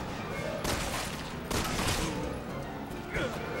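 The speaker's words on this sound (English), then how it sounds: "Since when does she have a shotgun?" Shotgun and other gunfire in the Resident Evil 6 video game: three loud, sharp blasts spaced about a second apart, with softer in-game sounds in between.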